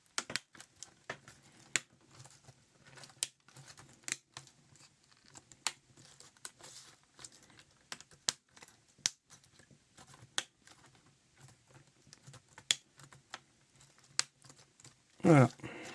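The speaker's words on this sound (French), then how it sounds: "On vient clipser le clavier tout doucement." A laptop keyboard being clipped into place gives an irregular series of small, sharp plastic clicks and snaps close by, with quiet handling noise between them and a louder clatter at the end.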